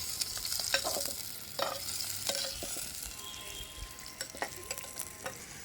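Onions frying in oil in a pan while being stirred, a soft continuous sizzle broken by scraping spoon strokes at irregular intervals, close and fairly quiet with no talk.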